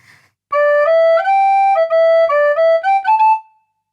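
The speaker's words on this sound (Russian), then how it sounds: "Самый классический – это звук рекордера, напоминающий как раз-таки блокфлейту." A breathy recorder tone from a re.corder MIDI wind controller plays a short melody of clean sustained notes, close and clear, ending on a held note that fades out.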